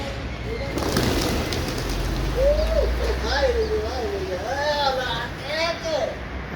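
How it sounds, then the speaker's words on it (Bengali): Soft, repeated cooing calls of wild pigeons rise and fall over a low background rumble, several birds close by in a steady outdoor murmur on a winter morning. "এগুলো জংলা কবুতর"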